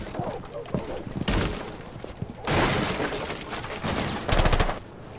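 Bursts of rapid automatic gunfire in Rainbow Six Siege come in short volleys separated by quieter gaps, loud and sharp, with players talking in between.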